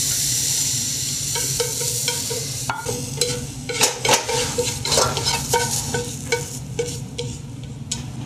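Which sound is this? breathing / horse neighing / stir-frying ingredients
stir-frying ingredients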